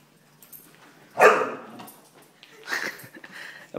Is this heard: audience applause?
no